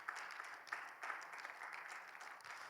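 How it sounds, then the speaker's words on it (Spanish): A church congregation claps in a steady, dense applause that runs the whole time, moderately distant and even in loudness. "¿Cuánto dan un fuerte aplauso al Señor?"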